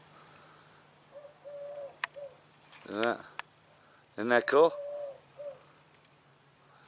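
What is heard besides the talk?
dove cooing while building its nest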